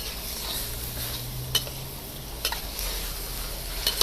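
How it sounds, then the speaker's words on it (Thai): Minced pork and long beans sizzling and stirring in a hot pan, a steady low fry with a few sharp clinks of a utensil against the pan. "เราก็ผัดลงไปรวมกัน กับหมูสับกับถั่วฝักยาวที่เราหั่นแล้วนะคะ"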